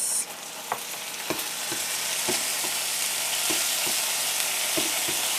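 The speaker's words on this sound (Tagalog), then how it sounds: "once na okay na yung ating bawang sibuyas, a-add na natin yung ating soy sauce." Garlic and onion sauté with a continuous loud sizzle in a pan as soy sauce is added, punctuated by regular light clicks of stirring.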